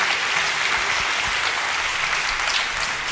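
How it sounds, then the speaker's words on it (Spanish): Loud, dense applause from a Spanish-speaking church congregation honoring men standing at the back, continuous and close, holding steady the whole time with only a faint murmur of crowd. "den un fuerte aplauso a esos hombres valientes que están poniendo de pie"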